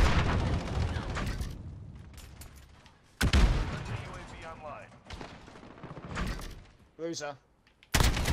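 Gunfire in a Call of Duty Modern Warfare Hardpoint match on the Rust map, with loud bursts and sharp shots breaking in amid game noise while a player talks over it.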